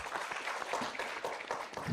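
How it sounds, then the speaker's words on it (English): An audience at a Falling Walls Lab science pitch event in Yogyakarta, Indonesia breaks into applause after a talk, a brief, fairly close burst of many hands clapping steadily. "give a big round of applause."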